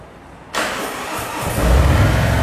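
A Harley-Davidson Road Glide motorcycle engine cranks and fires with a sudden burst, then settles into a close, deep idle that swells louder near the end.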